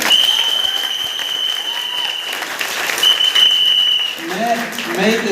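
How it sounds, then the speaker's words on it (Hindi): Crowd clapping for newcomers at a Lucknow motivational gathering: a steady patter of applause through the room, overlaid by a sustained high electronic tone and brief voices toward the end. "मैं नए लोगों के लिए चाहूंगा जोरदार तालियां"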